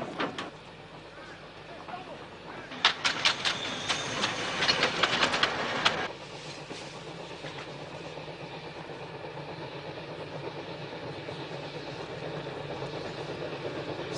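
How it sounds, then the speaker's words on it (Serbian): A train approaches with a rumbling, clattering rush that swells into loud clanking and hissing before settling into a steady low roar, with people shouting over it. "Ljudi, eto voza, bježi!"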